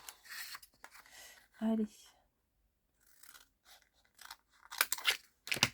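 Scissors snipping off a piece of craft material, several crisp close cuts in short bursts separated by quiet, with a brief spoken word in the middle.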